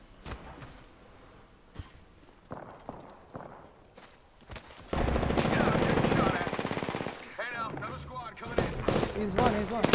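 Automatic weapon fire in the battle royale shooter Apex Legends, rapid bursts of loud, close gunshots in the second half after scattered footsteps and quieter sounds, with players talking over the action.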